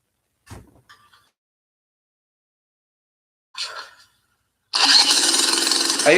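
A 100cc minibike engine, cleaned after a teardown and turned over with a drill, gives a couple of short mechanical bursts and a brief whir, then catches and runs in a loud, buzzing roar.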